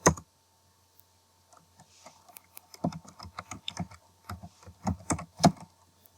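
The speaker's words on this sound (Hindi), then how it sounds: "सपोज मैं यहां पे टाइप कर लेता हूं" Typing on a computer keyboard while working in Microsoft Word: a lone click, a pause, then irregular bursts of close key clicks with no talking.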